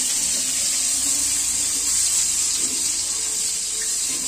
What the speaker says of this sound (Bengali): তো আমি এভাবে অল্প অল্প করে একটু ফ্রাই করে নেব